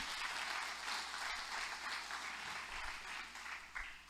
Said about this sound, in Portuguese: Aplaude Ele em nome de Jesus,